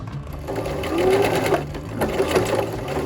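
Sewing machine stitching and back-stitching a fabric face mask, with a fast continuous mechanical whir and needle chatter, close and loud, swelling slightly mid-run, with no talking.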